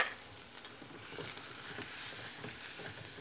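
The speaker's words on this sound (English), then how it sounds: "And we're making a roux, or developing a roux at the bottom of this pan" Flour and rendered bacon fat sizzle steadily in a pan as a roux is stirred, a continuous close frying hiss with soft scraping, no talk.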